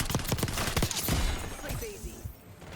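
Hand cannon gunfire in Black Ops 6 Battle Royale comes as several sharp, loud shots in quick succession, then fades into quieter game noise.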